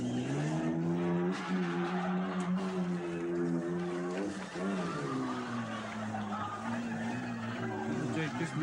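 A Jeep grinding through a muddy off-road bog course at a 1984 Cross Country Jeep Owners Club event, its engine droning and revving unsteadily throughout while a voice talks over it.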